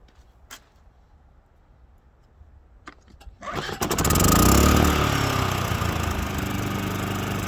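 A Champion 3400 inverter generator starts up: a few faint clicks, then the engine catches and roars loudly, settling into a steady, close idle drone.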